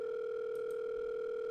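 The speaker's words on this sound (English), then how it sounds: "the line finally rings" A telephone line rings through on a call, heard as a loud, steady, unbroken electronic tone that holds level throughout, with no voices.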